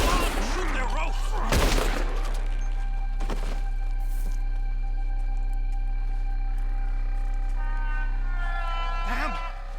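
Gunfire crackles through a Red Dead Redemption 2 gunfight as characters try to shoot down ropes, loud close shots and rapid volleys over a constant low rumble, with shouting voices mixed in.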